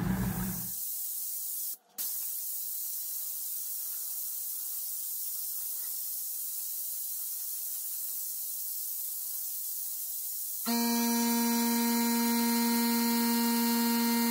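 A vacuum pump sucks dirt and liquid from a rusty 1970 Triumph Spitfire gas tank, giving a continuous loud hiss with one brief dropout, then shifting to a harsher tone with a steady mechanical hum.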